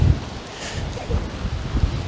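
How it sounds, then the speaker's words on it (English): Gusts of wind buffet the microphone in low, uneven rumbles, rising and falling over a couple of seconds without speech. "So windy. I know, so windy."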